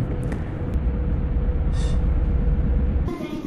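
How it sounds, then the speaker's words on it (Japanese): A train rumbles steadily as it pulls into Ōe Station on a Japanese private railway, low heavy noise throughout with brief squeals of brakes or wheels, then a change in sound near the end. "この列車は2番線に入線します。"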